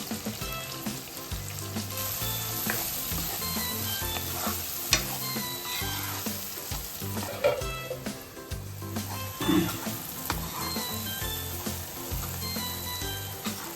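Onions frying in a pan while preparing menthi chicken, a continuous sizzle with stirring scrapes and occasional louder clatters, close and fairly busy, with no voices.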